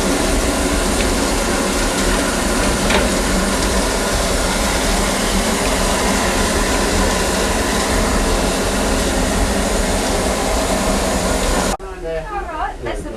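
Historic Strahan cog railway train running through Lynchford in Tasmania, a steady loud rolling rumble with broadband rattle and hiss, continuous for most of the stretch before cutting to quieter sound with voices near the end.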